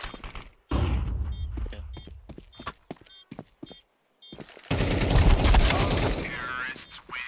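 Gunfire and a flashbang grenade in a multiplayer shooter game come as rapid, sharp shot bursts and thuds between gaps of near silence, ending in a louder, dense burst, with player voices heard at times.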